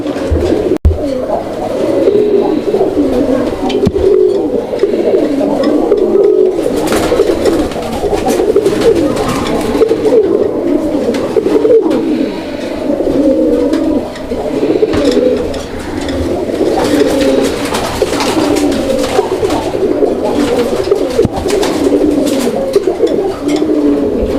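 Pigeons of fancy breeds such as Lahori and Bombay coo continuously in a loft or market setting, a dense, overlapping layer of low throaty coos from many birds at close range, steady and loud throughout.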